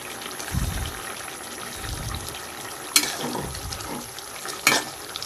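Vegetable curry being stirred and turned over in a pan, with soft scraping and a gentle simmering hiss, plus a few sharp utensil knocks against the pan.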